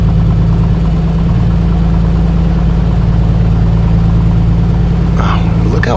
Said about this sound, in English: You can actually hear and feel that engine warming up.